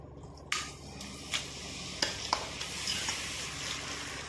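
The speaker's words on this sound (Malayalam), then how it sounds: "ഇതിലേക്ക് നമുക്ക് ഗ്രേറ്റ് ചെയ്ത് വെച്ചിരിക്കുന്ന ആപ്പിൾ ഇട്ട് കൊടുക്കാം." Grated apple dropped into hot ghee in a pan for apple payasam: a sudden loud sizzle that keeps on steadily, with occasional spoon scrapes and taps as it is stirred.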